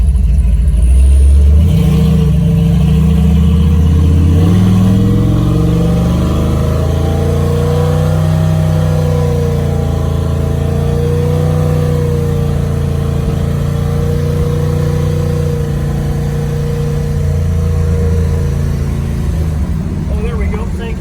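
A 1964 Chevy Impala Pro Touring with a 502 engine and turbo 400 transmission revs hard and holds against its rev limiter, a loud, close, sustained drone with a slightly wavering pitch lasting about twenty seconds.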